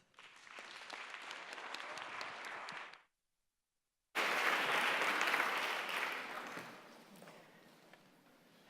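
Audience applause welcoming speaker Sandra Fredman at a talk, steady clapping from a crowd that breaks off briefly, then resumes loud and full before tapering off, with no voices over it.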